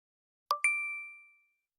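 A contactless payment reader in a taxi gives a clean two-note chime as a phone is tapped to pay the fare, the second tone ringing out and fading over about a second against silence.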